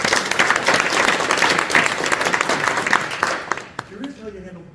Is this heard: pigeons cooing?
no